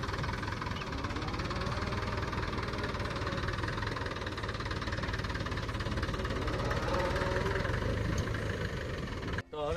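A tractor with a trolley hitched behind idles and chugs steadily while reversing, a continuous mid-pitched engine knock heard close and fairly quiet, ending with a brief sharp noise.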